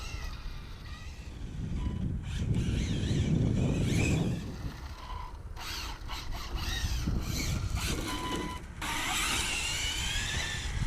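An Arrma Infraction 6S V2 RC car at quarter throttle gives a whining electric motor and tire rush that rises and falls as it passes, heard near and loud across the whole clip.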